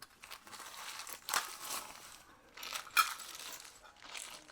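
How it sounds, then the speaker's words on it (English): Plastic wrapping around chrome ceiling light fixture parts is cut with a knife, giving faint close crinkling and rustling with a few brief sharper crackles and no talk. "You may need to have a knife to cut through the plastic."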